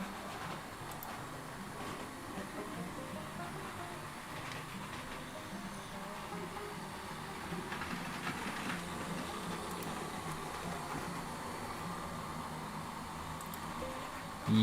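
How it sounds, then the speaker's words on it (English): Model railway locomotive with a large silver central motor and all-wheel drive shafts, running with a steady, continuous whirring drone at a moderate level, mechanical hum holding throughout without talk. "That loco looks great. I wish I could make it a bit quieter though."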